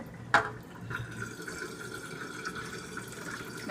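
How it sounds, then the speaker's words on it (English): Water draining out of a container, a soft trickling and splashing flow that begins with a brief sharp splash and then runs on gently and steadily at close range. "So you can just drain it."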